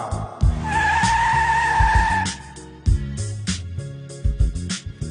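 A car brakes hard with a sustained tire skid squeal, loud and close, then stops abruptly; heavy low rumble and clunks of the vehicle follow.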